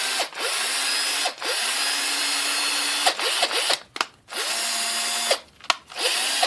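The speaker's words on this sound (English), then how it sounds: "So we got the drill here." A cordless drill whirs in several short bursts, spinning up and stopping repeatedly with brief pauses between runs, close by.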